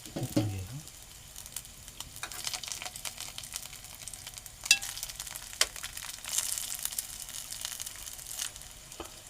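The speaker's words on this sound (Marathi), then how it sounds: "आपण आता हे शॅलो फ्राय करून घेऊया" Leaf vadi rolls shallow frying in a pan make a soft, low crackle and sizzle close by, broken by scattered clicks and scrapes of handling, with a few sharper taps standing out.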